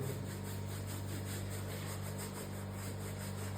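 A brush scrubs a dirty car carpet coated with cleaning product during a dry-cleaning job. Close, rhythmic bristle strokes repeat over a steady low hum.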